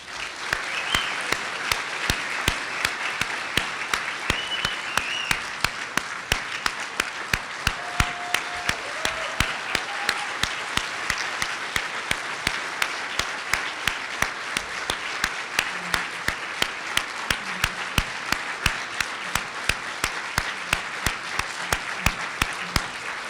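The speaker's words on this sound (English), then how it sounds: "we were all clapping, giving you a standing ovation, so we didn't hear anything you said" A conference audience gives a long standing ovation for a Hall of Fame induction, with many hands clapping steadily at a moderate, somewhat distant level for over twenty seconds and no talk over it.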